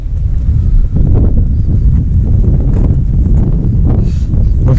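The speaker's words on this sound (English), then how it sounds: "it's just too windy, you can't really film out there" Loud, constant wind buffeting the microphone, a heavy low rumble with gusty surges throughout.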